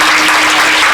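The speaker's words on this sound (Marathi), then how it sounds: "टाळ्या वाजवा जरा जोरदार" Audience at a kirtan claps loudly and continuously, a dense, close wash of applause filling the whole second.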